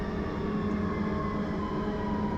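A Riyadh metro train at a station gives a steady, faint hum and drone with no talk.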